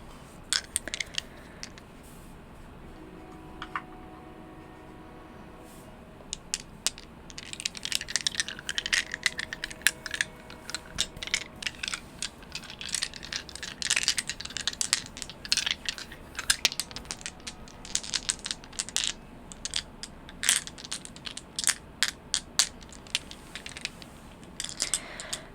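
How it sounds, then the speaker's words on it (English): Small dice, including a four-sided die, are rolled and shaken close up for ASMR. Dense, crisp clicks and clattering rattles come in quick bursts after a quiet start, with no talking. "Let's see what I can roll with these dice."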